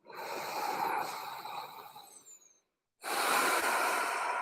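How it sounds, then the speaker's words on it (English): Strong, low, steady breathing during a yoga practice, one long forceful breath lasting a couple of seconds, a brief pause, then the next begins, close and airy with no talking. "Some strong, low, steady breaths now"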